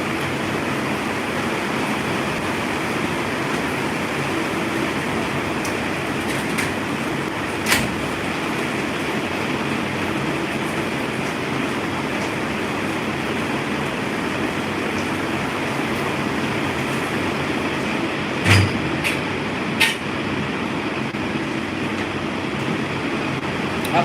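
Heavy rain pours outside an open window, a dense, steady hiss that runs throughout, broken by a few sharp clicks and knocks nearby.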